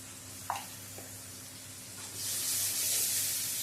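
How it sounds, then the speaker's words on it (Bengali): Spice paste with salt, turmeric and ginger paste fries in a pan for a katla fish curry, a faint hiss with a light utensil tap that swells into a brighter sizzle partway through. "দিয়ে মশলাটা ভালো করে একটু কষিয়ে নেব"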